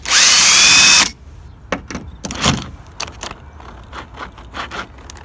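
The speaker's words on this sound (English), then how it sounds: "Sometimes cordless drill isn't strong" A cordless drill with a T40 bit whines loudly for about a second while undoing a screw on a Fiat Punto Grande door lock, then stops, followed by scattered clicks, knocks and clatter close by.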